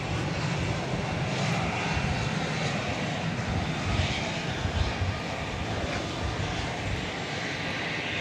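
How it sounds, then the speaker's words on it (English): A Boeing 757 arriving at an airport at night roars steadily throughout, a loud, broad engine rumble with no talk over it. "I like me a 757. This is arriving from Laredo, Texas."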